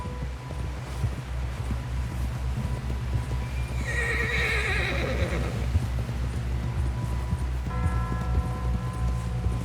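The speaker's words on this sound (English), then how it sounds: "Someone help John down off this horse." In the video game Red Dead Redemption 2, a horse gives a loud, wavering whinny in the middle of steady, rhythmic hoofbeats, with a low background hum and no talking.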